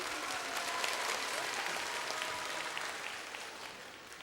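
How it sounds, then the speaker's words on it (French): A studio audience at a French television game show applauds, a steady dense clapping throughout that slowly tapers slightly toward the end, with no talk over it. "On applaudit monsieur"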